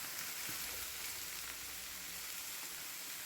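Brinjal sautés in hot oil with salt and turmeric, a steady, soft sizzle and crackle that runs evenly throughout, with faint stirring and no talking.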